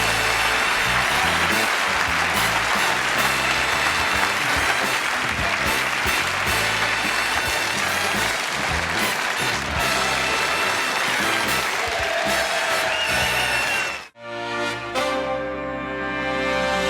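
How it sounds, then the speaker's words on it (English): Dense, sustained applause from a large studio audience at the close of The Johnny Carson Show, loud and continuous for many seconds before cutting off abruptly. "I'm humbled by that applause."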